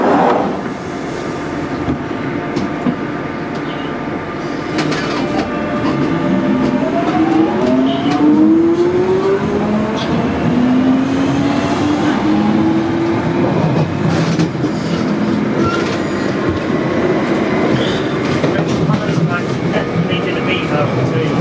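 A London Underground Jubilee line train runs between Stanmore and Stratford with a loud, continuous rumble and rising motor whine, wheels clattering over joints, while people talk faintly in the carriage.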